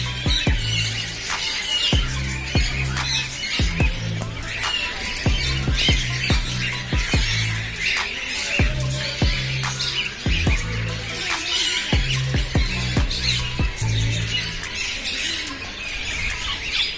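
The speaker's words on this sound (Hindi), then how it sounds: "ये देखिए ये देसी तोते हैं" Native parrots at Kanpur zoo squawking loudly and repeatedly, harsh calls and chirps overlapping in an irregular chorus close by, with other birds and zoo ambience in the background.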